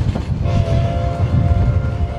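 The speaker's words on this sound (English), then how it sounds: "the train rolls into Osier Station" A Cumbres & Toltec Scenic Railroad train rolls into Osier Station with heavy low rumbling and rhythmic clatter of wheels, a horn tone sounding briefly, loud and close.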